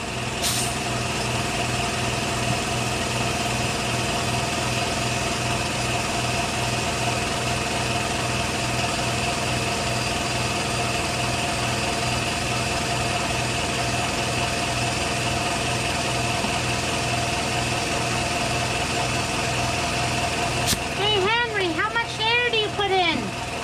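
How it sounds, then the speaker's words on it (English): An air compressor runs with a steady, droning mechanical hum and rhythmic pulsing throughout, continuous and fairly loud, before a voice briefly speaks near the end. "Got my air compressor on now."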